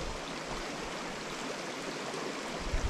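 A mountain stream in the Swiss Alps rushes and splashes in a steady, dense, broadband wash that holds constant throughout, with no voices.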